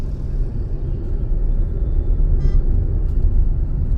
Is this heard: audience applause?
no